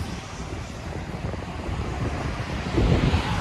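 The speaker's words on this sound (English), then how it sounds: "Sorry about the wind." Outdoor wind buffeting a microphone on a snowy early-winter day, a constant rough low roar with gusts that swell louder near the end, with no talking.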